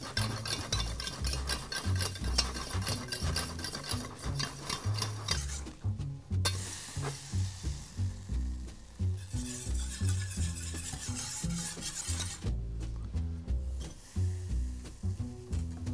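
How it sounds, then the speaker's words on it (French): A roux of melted butter and flour cooking for a veal blanquette, stirred steadily with repeated rhythmic scraping strokes against the pan and a light sizzle, close and continuous, with two brief pauses, no speech. "On va maintenant cuire un petit peu le roux."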